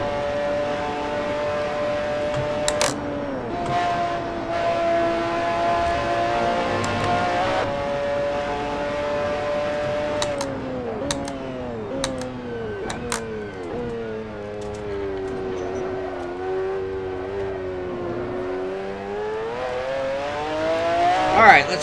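A McLaren F1 GTR race car driven around Spa-Francorchamps in the Assetto Corsa racing game, its engine note loud and continuous, rising through revs and dropping sharply at each gear change and braking zone, with occasional tyre squeal.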